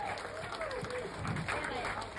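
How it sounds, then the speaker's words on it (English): A live music crowd claps along at a rock and roll show, a steady, moderately distant wash of applause with faint voices underneath. "Give yourselves a round of applause."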